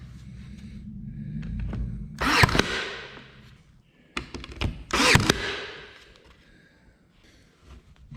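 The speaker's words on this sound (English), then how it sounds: "I'm gonna get my little brad nailer, shoot this in." A small brad nailer drives nails into wooden trim, giving two sharp, close pneumatic snaps about three seconds apart over a quiet background.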